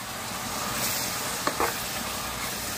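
Ginger garlic paste frying with raw prawns in a pan gives a steady sizzle and hiss throughout, with a couple of brief stirring scrapes midway.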